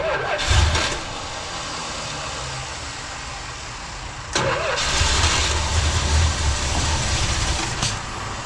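A 1978 Dodge Ram crew cab pickup's engine cranks and catches, settling into a loud, rough idle, then a second burst of cranking leads into a fuller running roar that continues to the end.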